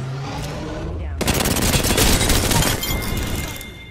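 Video game gunfire, starting as a quieter rumble then erupting into a loud, rapid burst of automatic shots that holds for about two seconds before tapering off.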